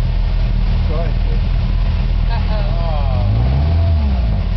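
Engine of an off-road vehicle in Baja rumbling loudly and rising in pitch as it is put in gear, with people talking and shouting over the steady roar.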